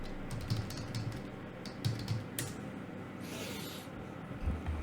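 Someone types a web address on a computer keyboard, producing quick soft key taps in small irregular clusters, close up over a constant low background noise.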